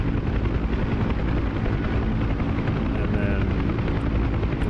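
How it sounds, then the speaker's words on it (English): Loud, steady thrumming drone of a simulated UH-1 Huey helicopter engine and rotor in DCS, constant and close throughout, with a faint voice underneath. "the more you pull up on the collective, the higher the helicopter is going to go."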